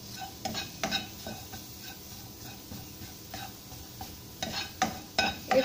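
Dal being stirred in a non-stick pan without oil: quiet spoon scrapes and light clinks come in uneven bursts, close but faint, with no talking.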